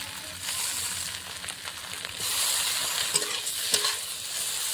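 Ground spices, ginger-chilli paste and potatoes being stirred and sautéed in a pan for a light fish curry, a steady close sizzle with scraping stir strokes that grows louder midway, with no voices.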